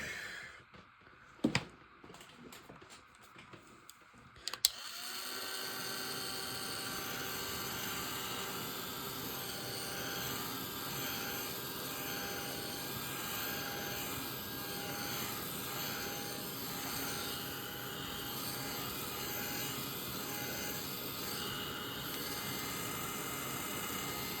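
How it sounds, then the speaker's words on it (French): Heat gun blowing hot air over a distress ink collage, a steady loud whooshing roar that switches on after a few seconds of faint handling clicks and runs continuously. "je vais passer un petit coup de heat gun et on verra si je peux améliorer ce que je veux"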